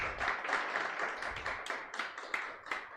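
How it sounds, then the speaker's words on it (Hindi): A roomful of students claps for themselves in a dense, lively burst of clapping, fairly close and continuous, with faint voices underneath. "आप लोगों ने ताली बजाया"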